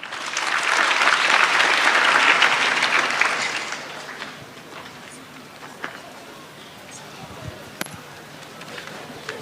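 Applause from a crowd at a students' career fair in Kiharu, Kenya, loud and sustained for about four seconds before fading into murmuring room noise with scattered claps.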